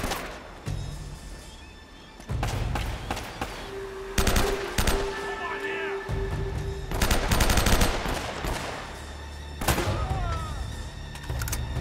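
Bursts of AK rifle fire from the video game Uncharted: Drake's Fortune rattle loudly in several rapid volleys separated by short pauses, with other battle noises in between.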